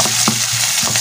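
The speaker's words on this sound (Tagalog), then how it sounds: "Gisa natin yung bawang, sibuyas, kamatis." Garlic, onion and tomato sauté in a pan with a dense, continuous sizzle broken by a few stirring scrapes, close and loud, no speech.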